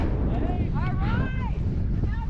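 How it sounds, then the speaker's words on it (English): Wind gusts across an open mountain summit on the Colorado Trail, a steady, loud rumbling roar buffeting the microphone throughout, with brief faint vocal exclamations mixed in. "The wind."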